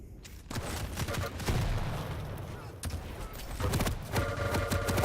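A Quake match with rocket launcher blasts followed by rapid lightning gun fire, sharp repeated bursts and a crackling buzz, loud and dense under a commentator talking.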